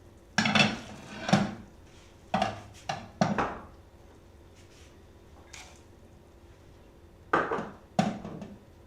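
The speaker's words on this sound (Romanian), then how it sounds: "După cele 15 minute adăugăm ardeiul" Chopped bell pepper is added to a pot of peasant pork soup with sour cabbage juice, making several close clinks and knocks of utensil against pot in separate bursts with quiet pauses between.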